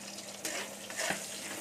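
Onions tipped into hot oil already frying bay leaf and five-spice for a pumpkin-greens stir-fry, giving a brief crackling sizzle with a couple of louder bursts over steady hiss.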